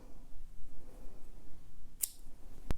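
Scissors snipping light gray yarn during a crochet sweater project, a single sharp cut followed by a faint click, close and quiet over low background.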